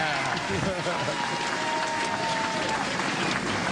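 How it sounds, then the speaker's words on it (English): A sellout crowd at the 2008 U.S. Women's Open bowling final gives a standing ovation, steady applause and cheering filling the arena with a few voices calling out over it. "Sellout crowd, standing ovation, all well-deserved."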